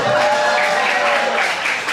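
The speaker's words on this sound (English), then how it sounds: "Let's give a round of applause for the 2 empty back seats now in the back." Audience at a comedy show applauds in a steady, close wash of clapping lasting the whole moment.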